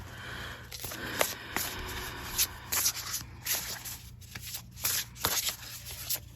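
A deck of tarot cards is shuffled by hand in a quiet room, giving a run of soft, papery riffles and slides with brief louder snaps, close to the microphone and without talk.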